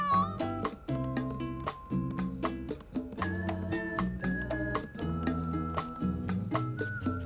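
A cartoon cat meows repeatedly in short, tuneful calls over a bouncy musical backing, close and clear throughout.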